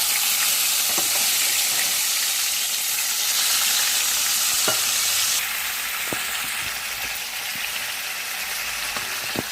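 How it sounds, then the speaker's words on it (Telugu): Boiled bitter gourd pieces frying in hot oil, a loud, continuous close sizzle with dense crackle that holds steady throughout, broken by a few faint spatula taps and no talking. "ఇప్పుడు ఉడకబెట్టేసుకున్నాం కదా కాకరకాయ ముక్కలు వేయించుకుందాం ఇందులో వేసి"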